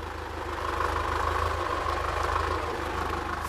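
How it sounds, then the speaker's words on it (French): An old farm tractor idles at a farm in the Val de Travers, its low engine thudding in a steady, even rhythm throughout with no voices. "a tenu à accueillir les candidats du dîner à la ferme avec l'ancien tracteur du papa de son épouse."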